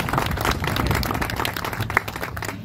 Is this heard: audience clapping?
yes